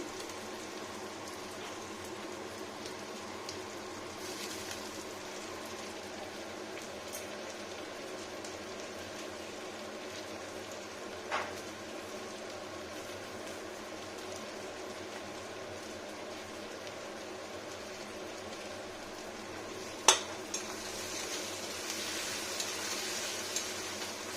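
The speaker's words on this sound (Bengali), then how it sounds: "এটা ভাজতে হবে খুব সুন্দর করে" Frying in a pan with green chillies and chilli powder makes a steady, faint, even sizzle and hiss throughout, with a couple of small clicks and no talk.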